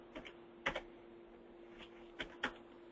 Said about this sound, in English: So you can either use keyboard or mouse for data entry.